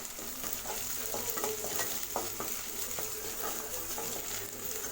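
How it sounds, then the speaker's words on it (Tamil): Green chillies sautéing with ginger-garlic paste in hot oil for mutton dalcha, a continuous close sizzle and crackle with light stirring scrapes and taps, no voices. "பச்சை மிளகாய் சேர்த்து நான் நல்லா வதக்கி விட்டுட்டேன்"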